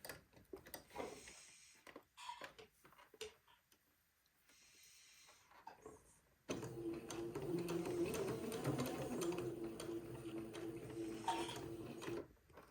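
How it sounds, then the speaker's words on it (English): A sewing machine stitches along the fold line of bias tape on a jumpsuit, a steady close whir starting midway after a stretch of quiet handling clicks and rustles. "I'm going to sew right on the fold line."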